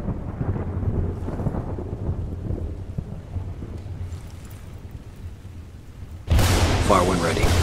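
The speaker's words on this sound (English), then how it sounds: "Wait for the thunder, and then take him out." Thunder rolls through a stormy night in the shooter game Battlefield Bad Company 2, a long, low rumble with rain and wind that swells into a loud crack near the end.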